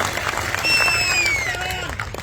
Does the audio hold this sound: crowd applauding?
yes